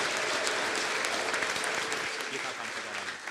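A church congregation at a prophet's service breaks into loud, dense applause, a continuous wash of many hands clapping together that fades slightly toward the end.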